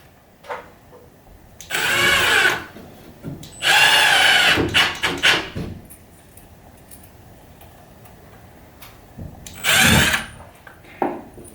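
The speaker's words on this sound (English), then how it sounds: "we're just going to screw these on the outside of the existing drywall, gyprock, plasterboard" A power drill drives screws through plasterboard into a timber backing plate for a ceiling hole repair, with three or four loud whirring bursts of a second or two each, separated by quiet pauses.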